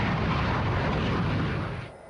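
An F-15 fighter jet roars past as a loud, dense, steady rush of engine noise that fades slightly at the end, with no voices.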